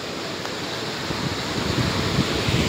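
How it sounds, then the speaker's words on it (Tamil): Fast-flowing water in a river or stream at a trip spot, a steady broadband rushing roar that holds constant and grows slightly louder toward the end, heard up close with some wind buffeting and no talk. "தண்ணி அதிவேகமாக போய் கொண்டிருக்குது"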